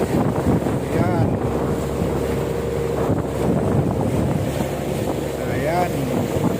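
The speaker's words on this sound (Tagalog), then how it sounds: "karga ng crudo, kumakalis na kami doon sa laot, mga kabayan." A boat carrying crude oil sails on the open sea, its steady engine drone and rushing water running the whole time under heavy wind buffeting the microphone, loud and close.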